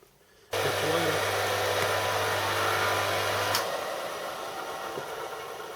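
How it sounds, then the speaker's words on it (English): A motor on a home-built Gingery milling machine starts up and runs with a steady, fairly loud hum and whir. It continues evenly for about three seconds, then settles into a quieter run. "Notice which way the motor turns. Turns anti-clockwise."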